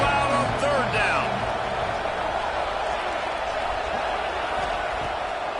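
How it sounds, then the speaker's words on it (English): Steady roar of a stadium crowd during a college football video game on third down, a dense, continuous wall of noise with a few faint whoops rising early on. "this crowd bearing down and getting loud on 3rd down."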